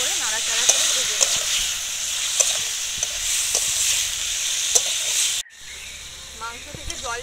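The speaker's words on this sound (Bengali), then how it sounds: "আর আদা রসুন আর কাঁচা লঙ্কা বাটা পেস্টটা দিয়ে খুব ভালো করে নাড়াচাড়া করে ভেজে নেব।" Ginger, garlic and green chilli paste fries loudly with tomato and chicken, a bright constant sizzle with stirring scrapes that cuts off abruptly near the end, leaving quieter frying.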